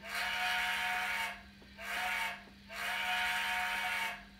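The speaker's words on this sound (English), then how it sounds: "Let's hear that whistle" A shrill steam-style DCC model train whistle sounds in three sustained blasts with short gaps, steady and fairly faint over a low electrical hum.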